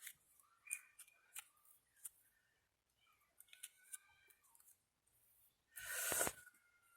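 Scissors snipping vellum paper rose petals, a series of crisp close cuts at irregular intervals followed by a louder rustle of paper, quiet and without talk.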